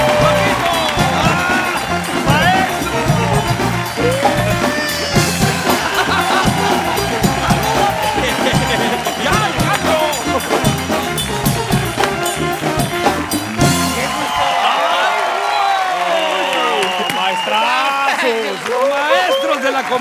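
Studio audience on a Mexican comedy talk show gives loud sustained applause and cheering for arriving guests, with a host talking over it as the clapping fades near the end.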